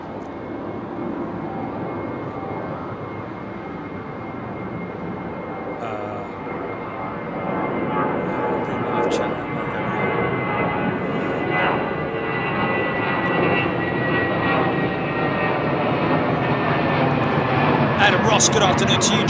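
Kuwait Airways flight KU 102 departs London Heathrow, its jet engine roar swelling partway through into a louder, sustained broadband rush with a whining tone, while people talk faintly in the background.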